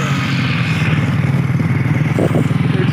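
Kids' mini motorbike engine running steadily during a ride, a continuous buzzing drone with slight revving, loud and close, with no talk over it.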